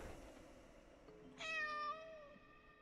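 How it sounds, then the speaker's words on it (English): A cat in Layers of Fear gives a single drawn-out meow, clear and fairly close, over a quiet low ambient hum. "Yes, look at your little kittens."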